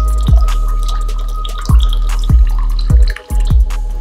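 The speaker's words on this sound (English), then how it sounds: "what I'm doing right here is making sure that the water is out and the rice remains inside the jar" Fermented rice water being poured out of a jar while the rice stays inside, giving a run of loud close drips and splashes in uneven bursts.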